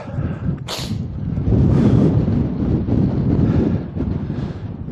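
Wind buffets the microphone while riding an electric Scott Solace eRide bike uphill into a light headwind, a loud rumbling roar that surges and dips throughout, with a brief sharp gust near the start.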